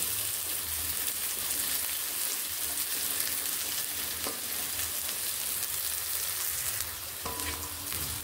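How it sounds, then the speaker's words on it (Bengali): Green beans fry in oil in a wok over a medium flame for a mixed vegetable fry, giving a steady, dense sizzle throughout with occasional stirring scrapes and no talking. "বিনসগুলো ভাজা হয়ে গেছে"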